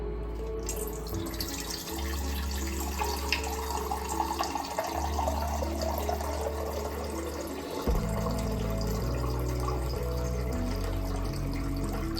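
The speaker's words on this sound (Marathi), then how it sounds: "आणि आता अंड्यामध्ये आपण पाणी टाकलेलं आहे" Water runs from a tap into a pot holding eight eggs for boiling, a steady splashing and filling sound with a low hum underneath that shifts pitch partway through.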